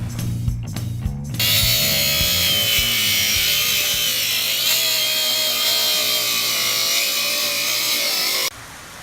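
Power saw cutting along the edges of Ipe hardwood deck boards: a few short bursts at the start, then one long steady high-pitched whine as the blade trims, before it stops abruptly near the end.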